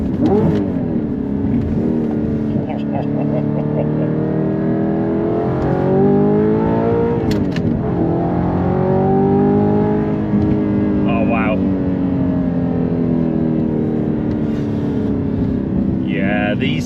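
An Audi R8 with 35,000 miles drives and accelerates, its engine droning and rising in pitch through the gears, loud and close inside the cabin, with people talking over it.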